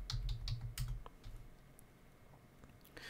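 Quiet, close clicks of a computer keyboard as a search is typed, short uneven bursts of keystrokes with pauses between them and no speech.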